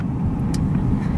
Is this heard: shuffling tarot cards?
no